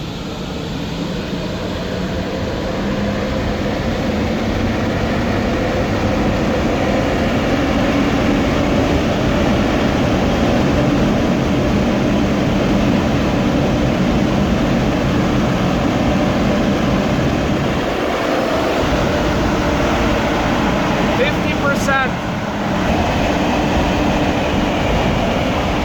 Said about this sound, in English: test this huge blower that I showed you 2 days ago in the vlog